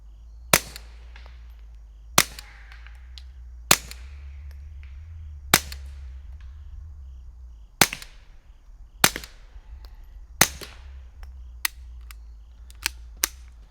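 Ten sharp, quiet cracks from a Beretta 21A pistol fitted with a Fox Creek FX-22 Ti suppressor, fired at uneven intervals of one to two seconds, each a short dry pop over a low rumbling background.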